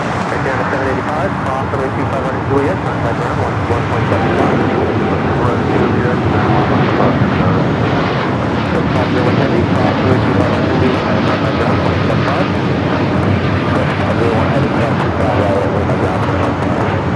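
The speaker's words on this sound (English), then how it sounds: "Japan Airlines A350 1000, flight 16, coming from Tokyo Haneda, next to arrive on the north side" A Japan Airlines Airbus A350-1000 jet, arriving from Tokyo Haneda, lands on runway 24 right at LAX with a loud, sustained broadband engine roar that stays steady throughout, with a person talking over it.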